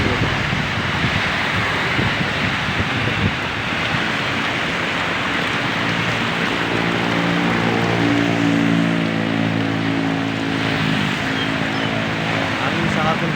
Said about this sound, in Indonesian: Hujan sangat deras, campur angin sangat kencang.